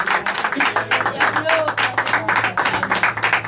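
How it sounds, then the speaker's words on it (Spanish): A church congregation claps in steady rhythmic bursts during an evening service, a dense near patter of hands filling the room with faint voices underneath. "Le damos un aplauso a Jesús."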